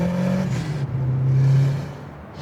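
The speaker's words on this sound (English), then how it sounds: "Get that nice little bit of lag and that cool open wastegate noise." A 1984 Nissan RS Turbo engine runs steadily with a low, droning exhaust note that rises and settles, carrying the breathy rush of an open wastegate; no one speaks over it.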